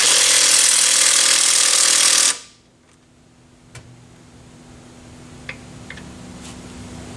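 A power tool hammers loudly and continuously while brake caliper brackets come off a Pontiac Vibe GT, then stops abruptly, leaving a quiet garage with a faint hum and a few small clicks.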